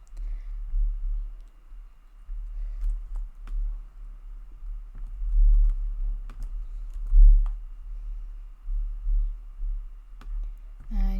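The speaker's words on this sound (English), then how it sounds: "we are going to type in 3 main services that we can provide." Steady typing on a computer keyboard with light, irregular key clicks at moderate volume over a low background hum, and no talking.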